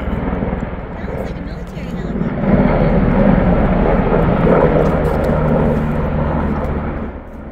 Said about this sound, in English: these helicopters are loud through here